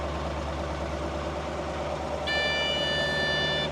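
A CAT military scraper engine idling on its own with a deep steady rumble, joined near the end by a high, steady electronic beep tone over the engine.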